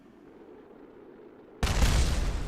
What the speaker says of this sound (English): Ooh, I hear explosions,